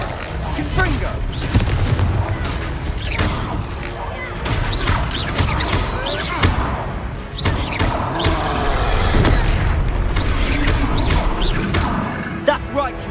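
Confringo fire spell explosions in the fantasy video game Hogwarts Legacy, repeated booming blasts and crashes amid loud combat noise over several seconds, with voices calling out in between.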